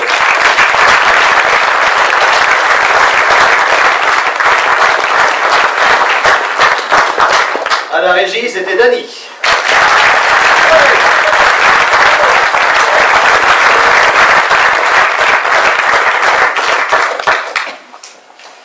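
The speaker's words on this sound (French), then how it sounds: "on peut les applaudir" A theatre audience gives loud, sustained applause to the stage crew during the curtain call of a stage comedy, a dense roar of clapping that breaks briefly while a voice speaks, then swells again before fading.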